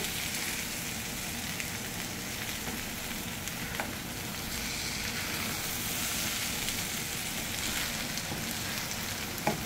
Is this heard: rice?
yes